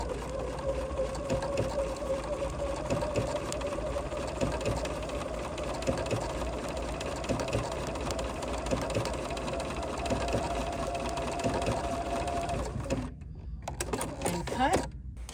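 A Bernina sewing machine runs slowly and steadily in a continuous mechanical hum, with a faint voice talking over it, then stops near the end.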